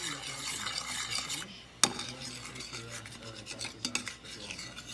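Syrup being stirred in a pot on the stove, a steady rasping, scraping churn close by with one sharp knock of the utensil against the pot partway through.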